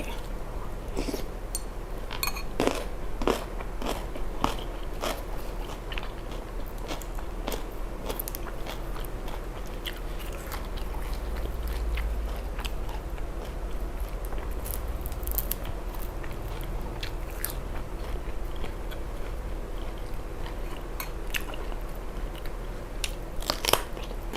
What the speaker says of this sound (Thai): พี่น้องกินไข่อะ มันอิ่มไวมาก